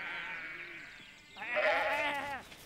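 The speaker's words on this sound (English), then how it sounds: "Old Pop often has to round up the sheep and get them into a pen." Two sheep bleats come close together, the first thin and fading and the second louder and wavering, both up close with nothing else around them.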